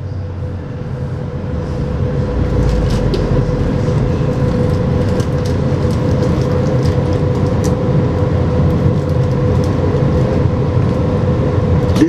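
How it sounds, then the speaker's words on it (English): Las Vegas Monorail train running southbound between stations, a steady loud rumble and whine of the car in motion with faint rattles, heard from inside the train. "This monorail continues southbound."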